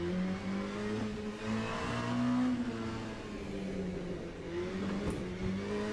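Race car engine in Le Mans Ultimate revving and shifting through gears on track, a steady loud drone rising and falling with each change, alone without talk.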